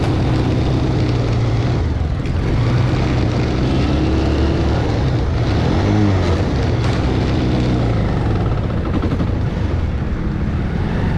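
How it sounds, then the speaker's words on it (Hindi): A loud, steady engine roar with a deep rumble runs continuously throughout, rising and falling slightly in pitch like a motorcycle being ridden. "प्लस बाइक जो है आवाज़ भी काफ़ी कर रही है।"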